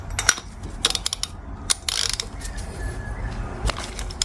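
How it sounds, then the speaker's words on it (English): A ratchet with an 18mm long socket clicks on the engine of a 1998 Yamaha XJR 1200 motorcycle, its quick pawl ratcheting coming close and crisp in uneven bursts without speech. "Use an 18mm long socket"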